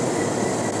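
An Amtrak San Diegan local train running from San Diego to Los Angeles gives a steady, loud rumbling roar throughout.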